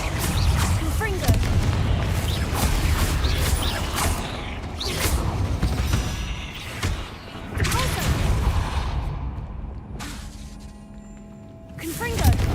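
Confringo explosion spell cast repeatedly in Hogwarts Legacy, several sharp blasts and booms with crackling debris amid busy game sounds, with a person talking over it.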